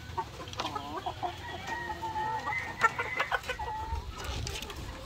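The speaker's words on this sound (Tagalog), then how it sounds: "Pati yung rooster natin nakikisali na rin dito sa itaas." Chickens cluck in a busy chorus with a rooster joining in, close by and continuous, amid rustling from the flock in a breeding pen.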